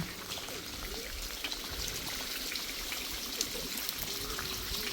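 Rain falls on a village street, a soft, even patter and trickle nearby with scattered drips throughout.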